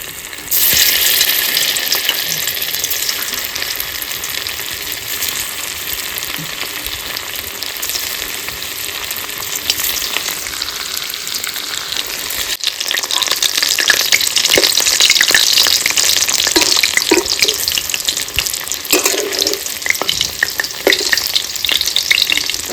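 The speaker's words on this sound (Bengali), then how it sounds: "হালকা করে ভেজে নিচ্ছি" Paneer fries lightly in a pan with a continuous crackling sizzle that swells louder partway through, close and busy with spatter, occasional utensil clicks and no talk.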